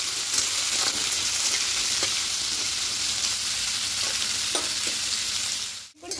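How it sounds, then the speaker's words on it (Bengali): Bitter gourd and potato frying in oil in a pan, a loud continuous sizzle with faint scraping taps, close up and without talk, cutting out abruptly near the end. "দিয়ে এটাকে একটু হালকা করে লাল লাল করে ভেজে নেব।"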